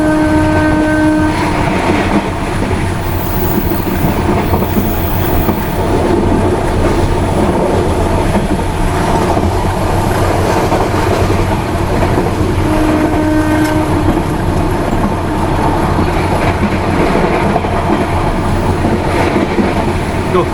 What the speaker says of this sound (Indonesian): Coba kita dengerin klaksonnya ya.